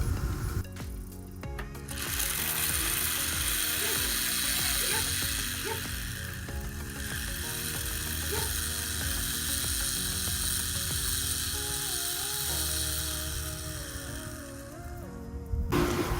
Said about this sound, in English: So let's see what happens when I pedal.